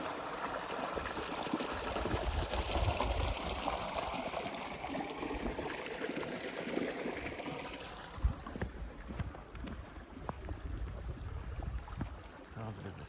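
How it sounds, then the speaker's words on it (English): A small mountain creek near Three Fingered Jack roars and rushes in a steady, loud wash of water, continuous and close throughout, with footsteps on the trail faintly audible over it. "we're back to this little creek, raging and roaring in all her fury"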